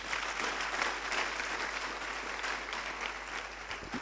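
An audience applauds a member of parliament at a late-running event, steady continuous clapping filling the room at moderate level for the whole stretch.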